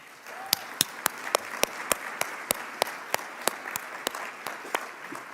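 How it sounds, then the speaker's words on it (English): An audience at a summer program closing ceremony claps at a steady pace, sharp distinct claps over a soft bed of further applause in a large room. "Could we please give them a round of applause?"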